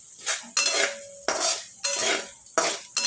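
Cabbage sabzi is mixed with salt in a pan using a metal spoon: rhythmic scraping strokes roughly every half second to second, each with a clinking ring against the pan, loud and close with no talk.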